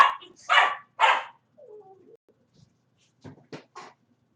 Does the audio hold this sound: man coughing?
no